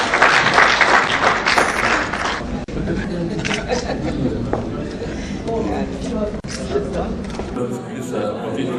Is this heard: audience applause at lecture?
yes